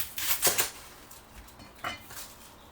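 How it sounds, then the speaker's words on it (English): A knife strikes a cutting board as both ends of a fist-sized onion are chopped off, two or three sharp close chops with scraping between them, no talking. "Chop off both ends."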